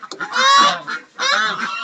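Chinese geese honking loudly and close, two bursts of harsh nasal calls separated by a short pause.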